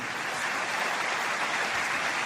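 A church congregation breaks into steady, dense applause, a close, continuous wash of many hands clapping with no voices standing out.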